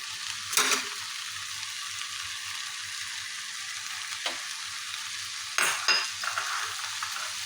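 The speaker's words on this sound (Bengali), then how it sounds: "কুচি করে রাখা ক্যাপসিকাম দিয়ে দিব" Chopped capsicum fries for chicken fried rice, a steady close sizzle with a few louder stirring clatters and scrapes against the pan.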